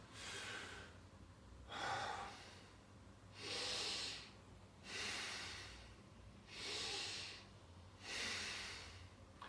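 Exaggerated shallow chest breathing, five loud breaths in a steady rhythm about two seconds apart, each a sharp close-miked inhale with no talking.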